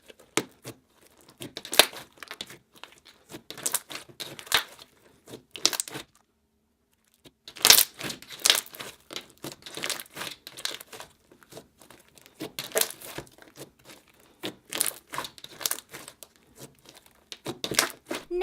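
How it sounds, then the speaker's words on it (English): Small foam packing pieces are torn apart by hand close up, giving repeated crisp, squeaky crinkling and tearing bursts in irregular clusters, with brief pauses between them and no talking. "I decided to tear up some of these little foam packing pieces and mix this into the slime"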